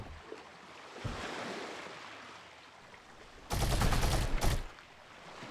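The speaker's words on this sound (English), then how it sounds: "I heard machine gun fire" Machine gun fire in the game Medieval Engineers, a dense roaring burst about a second long standing out over a steady wash of sea-like ambience, no talking.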